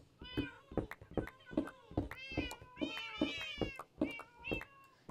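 Domestic cats meowing loudly and insistently, a rapid run of a dozen or so close, repeated yowling meows with short gaps between them.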